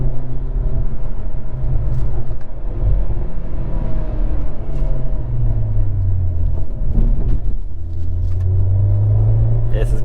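A 2021 Hyundai Veloster N with a dual-clutch automatic climbs a hill in manual mode, its engine droning loudly and rising in pitch through gears from inside the cabin, with a person talking over it.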